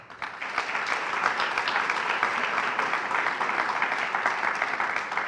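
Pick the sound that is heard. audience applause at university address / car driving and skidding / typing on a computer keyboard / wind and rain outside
audience applause at university address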